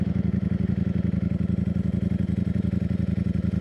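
A Ducati Streetfighter V4 motorcycle idles and pulls away gently in a soft launch, its engine a loud, close, rapidly pulsing throb that stays steady throughout, with no talking over it.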